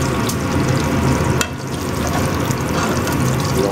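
Cube steaks frying in a hot pan, a steady loud sizzle and crackle throughout with a brief sharp clatter near the middle.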